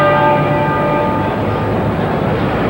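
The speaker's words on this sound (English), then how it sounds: "You hear the bells of Westminster Abbey in the background." Church bells of Westminster Abbey in London tolling during a royal funeral cortege, with sustained ringing tones over a dense, loud background wash and no talking.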